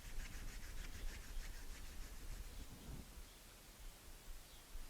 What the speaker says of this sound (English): If you just rub your hands together like this